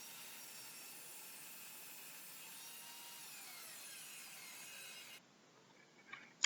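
A continuous whining table saw rips steadily through MDF board for several seconds, then the noise drops off with a brief clatter at the end.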